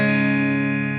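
Clean electric guitar tone picked with a plectrum, a single sustained chord ringing steadily and loud for about a second with no talking over it.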